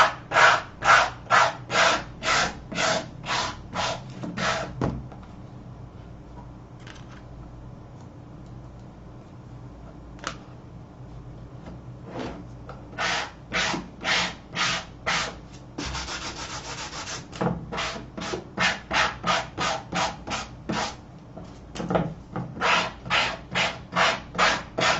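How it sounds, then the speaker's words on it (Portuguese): Sandpaper scrubs off excess glue and paper in steady rhythmic back-and-forth strokes, loud and close. Bursts of rapid rubbing are broken by short pauses and a few faint taps. "lixei"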